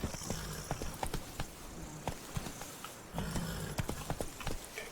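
Hooves of Roach, Geralt's horse in The Witcher 3: Blood and Wine, a steady clip-clop of walking steps, close and fairly loud with a faint ambient bed and no talk.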